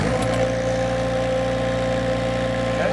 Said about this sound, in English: turn on the machine with our safety sensor switch